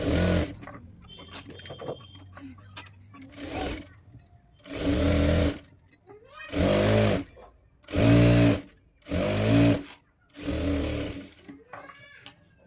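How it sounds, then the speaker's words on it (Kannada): Sewing machine stitching a quarter-inch folded hem on a blouse sleeve, running in about five distinct bursts of a few seconds each, separated by short pauses with faint handling noise, close and fairly loud. "ಈ ರೀತಿ ಒಂದು 1/4 ಇಂಚಿನಷ್ಟು ಮಡ್ಚ್ಕೊಂಡು ಸ್ಟಿಚ್ ಮಾಡ್ಕೋತೀನಿ ಮೊದಲಿಗೆ."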